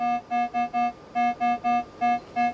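An Explorer SE Pro metal detector with a 12 cm coil sounds over a gold target, a series of about nine short, evenly spaced mid-pitched beeps, clear and close with no talk.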